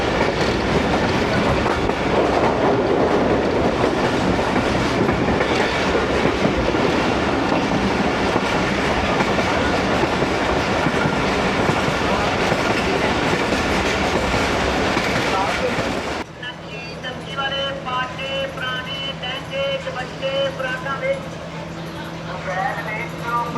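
The Karakoram Express rolls along rails near Lahore, passing Dharampura crossing and the Lahore canal. A loud, continuous rumble with rhythmic clickety-clack fills most of the stretch, then gives way to a quieter hum and background noise near the end.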